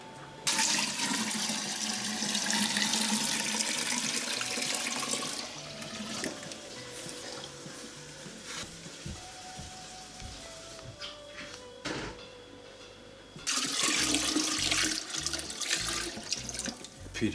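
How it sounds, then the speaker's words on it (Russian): Water pours and splashes loudly for several seconds into a wheat grain mash for moonshine, eases to a quieter trickle with some clunks, then gushes strongly again. "Теперь мы добавляем сюда воды"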